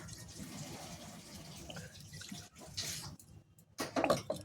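Water poured from a mixer grinder jar into a pan of fish curry, a faint splashing trickle close by, uneven and soft, ending with a brief louder slosh.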